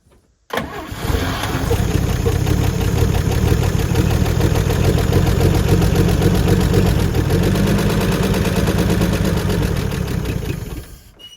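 A 1956 Chevy 210 engine, left sitting for 25 years, cranks and catches, then runs loud and steady with a rough, pulsing idle close by for about ten seconds before cutting off.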